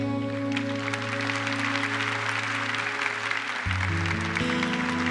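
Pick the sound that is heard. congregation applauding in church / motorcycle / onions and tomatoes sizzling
congregation applauding in church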